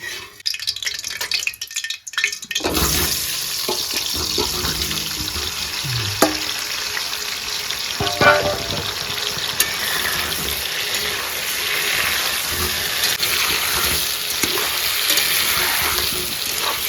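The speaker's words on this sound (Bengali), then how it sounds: "তেল গরম হয়ে গেছে, এখন আলুটা দিয়ে দেবো।" Potatoes drop into hot oil in a kadai while cooking a Bengali chicken biryani. A short quiet pause gives way to a loud, steady, close sizzle that runs throughout, with occasional clinks and scrapes of stirring.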